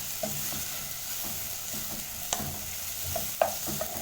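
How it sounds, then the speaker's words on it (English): Onions are stirred in oil that is not yet hot for chicken biryani, giving a soft, steady sizzle with a few spoon scrapes and taps against the pot, close and fairly quiet. "Once you're done that, you start stirring."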